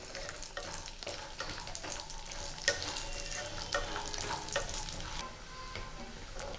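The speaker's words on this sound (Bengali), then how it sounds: "বড়িগুলো ভাজবো কিন্তু আমি খুব কম আঁচে" A quiet, continuous sizzle of lentil dumplings frying gently in oil on low heat, with scattered small pops and crackles, close but soft.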